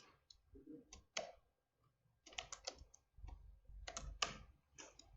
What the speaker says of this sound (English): Let me just type the whole thing again